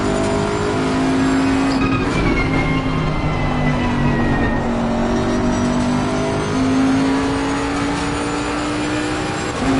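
A race car engine in Assetto Corsa Competizione at Zolder, held under throttle with a loud steady drone whose pitch rises and falls as it revs, dense and continuous with no talk.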